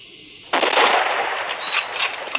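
A sniper rifle fires once in the Hunting Sniper mobile game: a sudden loud crack bursts in after a short quiet lead-in, then a long, dense rumbling tail rolls on without fading away. No one talks.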